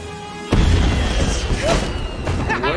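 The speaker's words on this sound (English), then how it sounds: "Where did that explosion come from?" A sudden deep boom bursts in a LEGO Batman 2 video game, followed by rumbling debris and scattered crackling game effects that fade over a couple of seconds.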